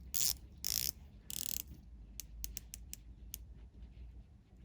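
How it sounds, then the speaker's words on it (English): A brushed ceramic 120-click bezel on a ZELOS Blacktip dive watch is turned by hand, giving a few short grinding bursts and then a run of faint, crisp ratcheting clicks, close up with no talk. "The bezel is a brushed ceramic style bezel, and a very nice action, 120 clicks."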